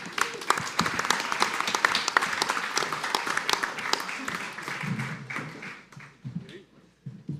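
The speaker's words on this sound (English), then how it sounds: "Give Chris a round of applause" Audience applause at a live festival event, a burst of many clapping hands that thins out toward the end as a voice begins speaking.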